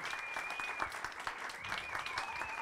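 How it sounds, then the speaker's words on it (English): Audience applause in a room at a talk, a steady wash of many hands clapping, somewhat distant and soft, with a faint tonal whine running through it. "let's have a huge applause to David"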